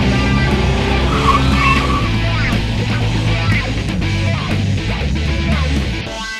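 A car engine with an MSD 6AL-2 ignition box is held on the two-step rev limiter at 4,000 RPM, producing a loud, steady, rasping roar that runs unbroken throughout and eases slightly at the very end.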